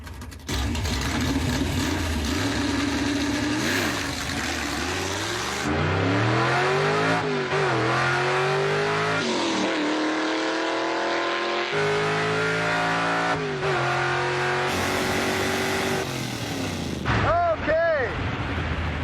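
A 1956 Chevy launching off a drag strip starting line, its engine roaring loudly and revving up through the gears in rising sweeps, close and dominant, with brief pops near the end.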